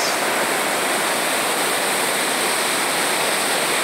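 Water pours over the overflowing Acaraú Mirim dam in the sertão of Massapê, Ceará, as a loud, continuous roar of rushing water, steady and unbroken throughout.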